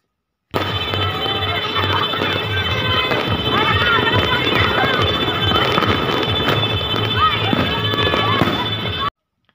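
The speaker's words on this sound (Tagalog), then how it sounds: "Wala pa rin humpay ang paputok at papaliwanag ng mga kwitis na ito" Continuous crackle and popping of New Year fireworks and firecrackers with whistling rockets, dense and loud, with voices and crowd noise mixed underneath, at a 2024 celebration.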